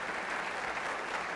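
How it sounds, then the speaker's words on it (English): Brief burst of steady audience applause for a panel at a sports summit, an even wash of clapping with no talk over it. "Please give them a round of applause."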